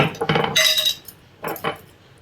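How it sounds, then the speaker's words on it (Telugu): A spoon clinks and scrapes against a metal pot while mixing fried onions with coriander masala for chicken dum biryani, giving several quick metallic taps followed by a short pause and two more clinks. "ఇప్పుడైతే ఇది మొత్తం కలిపేసుకుందాం అండి"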